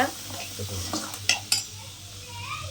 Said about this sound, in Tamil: கட்டை பூண்டும் நான் இப்போ எண்ணெயில் போட்டு வணக்க போகிறேன்